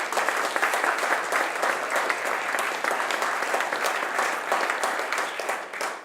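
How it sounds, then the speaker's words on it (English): Sustained applause from an audience in a library auditorium, a dense, steady patter of many hands clapping that holds evenly for several seconds before tapering slightly at the end. "Give them a big round of applause"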